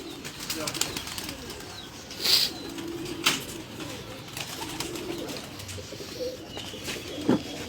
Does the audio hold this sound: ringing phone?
no